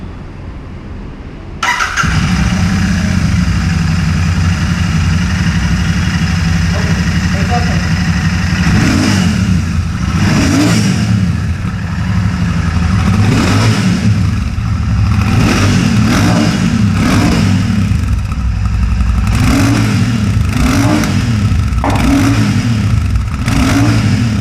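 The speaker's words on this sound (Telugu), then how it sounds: "ఒకసారి బైక్ స్టార్ట్ చేసి దీని ఎగ్జాస్ట్ నోట్ ఎలా ఉందో విందాం" A Royal Enfield Shotgun 650 motorcycle starts and settles into a loud, steady idle, then is blipped repeatedly in a row of sharp revs with a deep exhaust note in an enclosed space.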